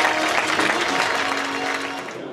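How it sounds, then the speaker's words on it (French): An audience at an evening event in Dubai claps loudly and densely, a close, steady round of applause that holds for a couple of seconds before easing slightly at the end. "Merci de faire un tonnerre d'applaudissements."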